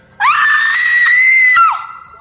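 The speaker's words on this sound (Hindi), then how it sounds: "जोर से चिल्लाना" A woman screams loudly on stage at a live band show when prompted, one sustained high-pitched shriek lasting over a second before trailing off, with no talk over it.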